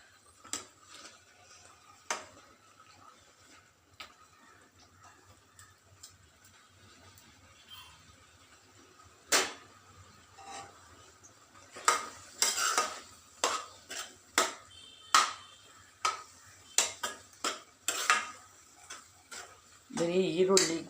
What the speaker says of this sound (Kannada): ಈ ಪಾವ್ ಭಾಜಿ ಮ್ಯಾಶರ್ ತೊಗೊಂಡು ಒಂದು ಸಲ